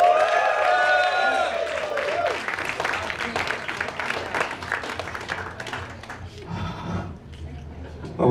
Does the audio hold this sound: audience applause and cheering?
yes